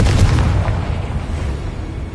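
Confringo blasting spell from Hogwarts Legacy erupting in a broad, booming blast that starts loud and rumbles on in a long, steady decaying roar.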